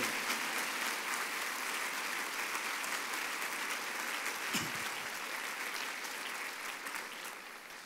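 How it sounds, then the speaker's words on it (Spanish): A church congregation applauding loudly, a dense, sustained wash of clapping that fills the hall and tapers slightly toward the end. "Ahora dele un aplauso fuerte al Señor"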